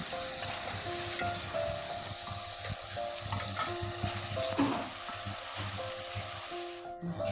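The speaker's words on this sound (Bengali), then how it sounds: "মশলাটা করে নেব আর ভালো করে কষিয়ে নেব" A spice paste (masala) sizzles and is stirred in a pan for a Bengali fish curry, with a steady fry hiss, recurring scrapes and tonal ringing tones in the background, and a brief louder scrape toward the end.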